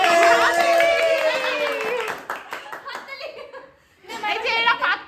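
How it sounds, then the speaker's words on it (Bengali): People clap together at a friends' picnic party, bursts of applause mixed with laughter and children's voices, first loud and close, then a brief lull before another round of clapping and chatter. "হাততালি।"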